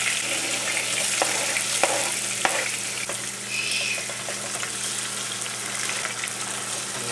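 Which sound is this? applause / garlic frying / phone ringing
garlic frying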